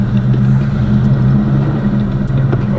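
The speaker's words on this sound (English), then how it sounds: "This car sounds really good." A Chevrolet Box Chevy car engine runs with a steady, low, even rumble from close by, holding constant with no clear revving and no talk over it.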